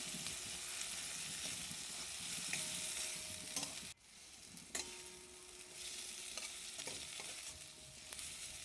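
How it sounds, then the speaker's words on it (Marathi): Garlic chilli paste fries in oil for a spicy hyacinth bean curry, a soft, continuous sizzle with faint scraping from stirring and a short dip partway through. "लसणाचं तिखट केलेलं आहे ते त्यात टाकून छान तेल सुटेपर्यंत त्याला मी परतून घेतलेलं आहे"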